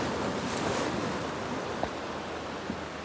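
Ocean waves wash in a steady surf roar at the beach as the tide goes out, with wind buffeting the microphone and a couple of faint knocks, no talk.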